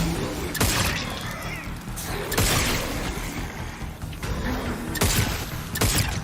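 Gunfire in a video game trailer, a sustained barrage of rapid shots and crashing impacts layered over a dense, loud soundtrack with periodic heavier blasts.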